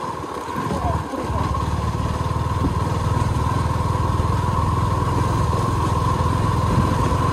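A motorcycle engine runs at a steady, loud drone on the way to Bortir Bill on Independence Day, with a Suzuki V-Strom SX 250 among the bikes, and its tone stays even throughout.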